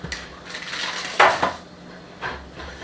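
Freshly baked ciabatta loaves slide off a metal baking tray onto a wire cooling rack in a home kitchen, giving a few soft scrapes and a short clattering knock at mid-point, then a fainter bump, with no talking.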